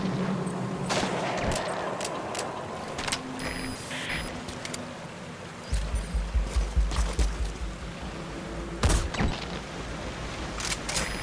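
Scattered gunfire in the stealth action game Metal Gear Solid V, distant cracks and a short run of rapid shots over a low rumbling ambience, with sharper reports near the end.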